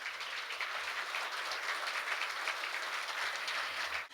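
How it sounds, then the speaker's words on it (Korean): An audience applauds at a ceremony marking the 15th anniversary of law schools and their council, with steady, continuous clapping from many hands that holds evenly throughout. "박수 부탁드립니다."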